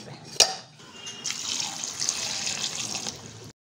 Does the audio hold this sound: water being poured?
yes